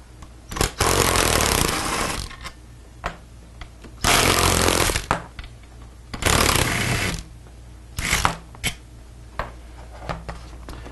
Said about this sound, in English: you'll take your 13 millimeter socket, and there's two bolts right here on the hinge piece